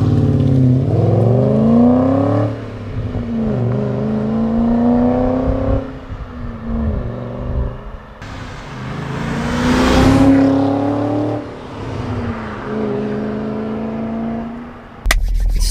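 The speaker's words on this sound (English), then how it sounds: "Now I'm just gonna give you guys a couple clips of how the V8 sounds." BMW E34 530i with its V8 engine revving repeatedly, rising and falling in pitch through several throttle blips, loud and close, with a sharp clunk at the end.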